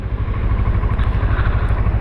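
Motorcycle being ridden, a loud, close, steady low engine drone with a pulsing rumble and wind noise, continuous with no voices.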